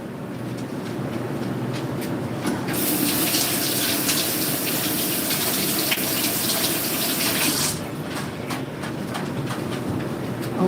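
Kitchen tap running steadily as a lemon is rinsed under it, a loud continuous gush of water that swells stronger in the middle, close and alone with no talking.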